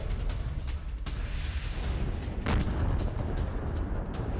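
A Russian strike on a Ukrainian weapons depot in Donetsk sets off explosions that rumble steadily, with a couple of sharper blasts standing out of the continuous roar.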